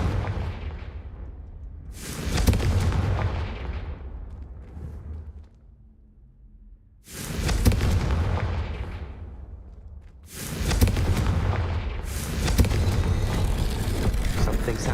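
Confringo blasting spell explosions in a video game: several heavy booming bursts with whooshing tails, separated by brief quieter gaps, loud and close.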